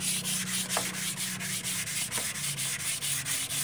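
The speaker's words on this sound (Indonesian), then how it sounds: "Jadi prosesnya ini kita gosok dulu sampai seperti bentuk semula, halus dan enggak ada pori-pori sama sekali." Body putty on a steel plate is rubbed smooth with sandpaper, a close, steady scratchy back-and-forth sanding with regular strokes, heard alone without voices.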